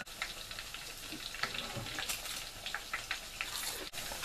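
Onion bajji dunked in hot oil for frying, giving a steady bubbling sizzle with crackling bursts throughout, close by and continuous with no talk.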